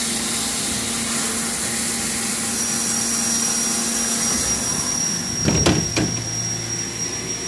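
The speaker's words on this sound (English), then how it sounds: "Turn the coolant back on, it's gonna start cutting." A machining mill cuts a keyway under coolant, producing a steady loud hiss and whir up close, with a couple of sharp clanks and a shifted tone near the end, no talk.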